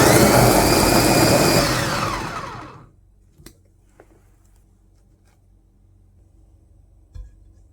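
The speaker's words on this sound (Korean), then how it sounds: "믹서기에 갈아서 준비" A blender whirs loudly for about three seconds grinding a kimchi seasoning of sugar, coarse salt, plum syrup and ginger powder, then winds down and stops, leaving near silence with a couple of faint clicks.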